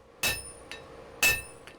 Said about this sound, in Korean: 망치질부터 하나씩 배워가고 있는 한준 씨